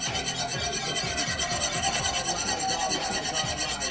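A wire whisk beats eggs in a bowl with quick, even scraping strokes. The rhythmic rasp repeats steadily and stays close and fairly loud, with no talking.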